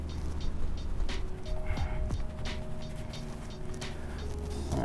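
Oil filter being wrenched loose on a Honda Hornet 919 motorcycle, faint creaks and ratcheting mechanical scrapes over a steady low background hum, close but quiet.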